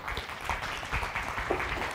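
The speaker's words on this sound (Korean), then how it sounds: "큰 박수 부탁드리겠습니다." An audience at a KAIST lecture event claps to welcome a speaker to the podium, a moderate wash of applause mixed with low rumbling room noise, fairly even throughout.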